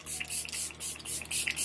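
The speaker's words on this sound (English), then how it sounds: "I'm going to add more setting spray." Makeup setting spray misted from a pump bottle, five or six quick, soft hissing puffs in an even rhythm, close by and alone.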